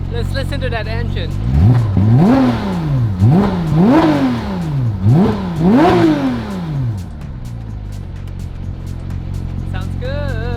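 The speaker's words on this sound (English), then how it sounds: "Let's listen to that engine." A Porsche 997 GT3 with a roughly 4.3-litre engine is revved hard several times in quick succession, each loud rising and falling howl close by, before it settles back to idle.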